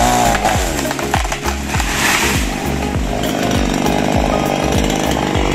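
A chainsaw roars loudly and continuously while cutting down a tree on a farm, its engine pitch dipping and surging as it bites through wood, with no talking.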